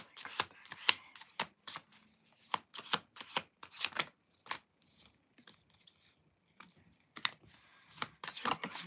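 Tarot deck riffled and cut by hand during a psychic reading, a run of sharp, close papery card snaps and flutters in uneven bursts with short pauses, no voices.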